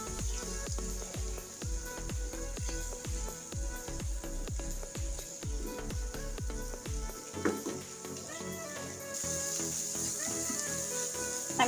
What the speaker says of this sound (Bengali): আমি ডিম আর সবজিগুলো একটু ভালো করে ভেজে নিচ্ছি